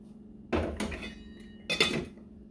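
Cooked white rice being served onto a plate next to tomato and bell pepper chicken, with two short bursts of spoon-on-dish clatter and scraping, close and fairly quiet.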